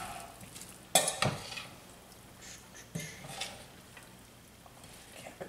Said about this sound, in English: I'm going to mix all of this cabbage and burger together